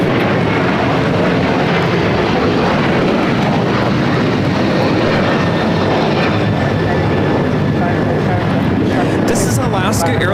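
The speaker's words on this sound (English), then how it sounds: "This is Alaska Airlines Flight 6 taking off to Washington Reagan National on the 737-800" An Alaska Airlines Boeing 737-800 jet taking off at Los Angeles LAX, its engines blasting in a loud, continuous roar with a voice talking over it.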